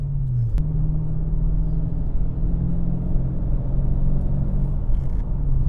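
Dodge Challenger R/T Scat Pack cruising, with a low, steady engine rumble and road noise heard from inside the cabin. The pitch dips briefly at the start, then stays even, and there is no talk.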